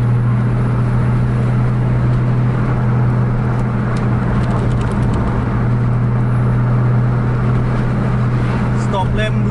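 A bus cruises on the road at close to 100 km/h, with a loud, steady low engine drone and road roar that holds constant throughout.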